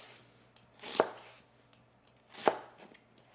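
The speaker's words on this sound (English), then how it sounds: "you want to cut about, I would say about a 1/2 inch strips" Two crisp knife chops through a halved red onion on a cutting board, about a second and a half apart, close and clear with no talk.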